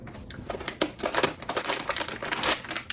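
Crinkling of a small plastic bag holding a service card and instructions while a 3D printer is unboxed. The close, irregular crackles and rustles come in quick bursts over about three seconds, with no voices.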